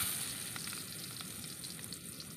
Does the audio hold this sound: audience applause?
no